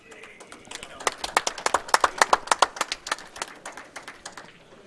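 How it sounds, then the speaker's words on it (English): Scattered hand claps from a small audience at a World Billiards match during the British Open group stage, a sparse run of sharp claps that swells briefly and then thins out, with faint murmuring underneath. "there'll be a round of applause now for Mick when he gets this red"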